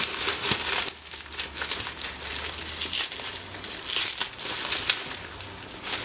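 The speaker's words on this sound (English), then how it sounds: "let's take some of this packaging off" Plastic packaging crinkles and crumples as it is pulled off a Max Green Type 2 charging cable, a close, busy rustling with repeated sharp crackles and no talking.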